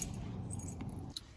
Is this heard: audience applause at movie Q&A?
no